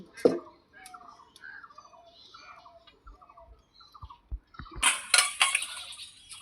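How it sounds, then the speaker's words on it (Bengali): A wok (kadai) goes onto a lit clay stove with scattered metallic clinks and knocks against a quiet background, then a harsher burst of clattering and scraping near the end. "এইবার আমি কড়াই বসিয়ে দিচ্ছি।"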